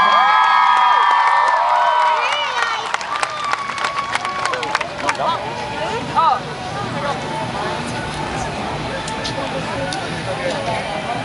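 Audience at a Hmong music festival applauds and cheers for a band, a burst of clapping and whoops that swells then fades into scattered claps and crowd murmur.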